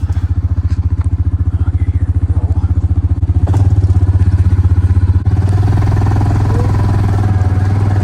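Yamaha Rhino UTV engine labouring up a hill in the bush, a close, loud, steady throbbing drone that pulses rapidly and swells in pitch and force partway through as throttle is added, with clattering bumps from the terrain.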